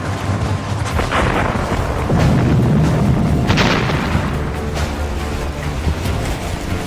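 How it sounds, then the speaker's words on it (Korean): Volcanic eruption with lava flowing from a vast fissure: a continuous, loud, rumbling roar with heavy low booms and crackling bursts throughout, dense and unbroken. "수천 년간 거듭된 화산 폭발로 용암이 흘러넘치며"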